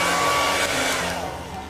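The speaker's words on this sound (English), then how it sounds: "I will force dry that, okay, with the hair dryer" A hair dryer blows steadily to force-dry shellac during gilding work on a wet day, a continuous close whooshing roar that tapers slightly toward the end.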